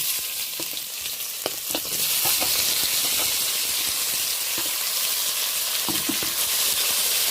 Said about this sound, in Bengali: এই পর্যায়ে কেটে রাখা পেঁয়াজ আর কেটে রাখা টমেটোটা আমি দিয়ে দেব।